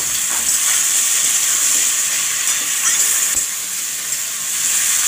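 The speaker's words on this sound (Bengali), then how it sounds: "এবার ওই তেলেতে দিয়ে দিলাম বেগুনগুলো, লম্বা লম্বা করে কাটা বেগুন।" Long-cut eggplant slices, salted, fry in hot oil in a wok with a steady, loud, close sizzle and hiss that holds evenly throughout, with no talking.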